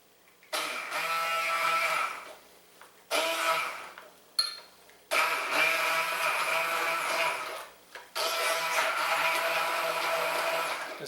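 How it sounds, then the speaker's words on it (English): Immersion blender whirring through a liquid green rice sauce, running in four steady bursts of several seconds each, separated by short pauses, close and fairly loud with no talking. "I got my handy dandy immersion blender"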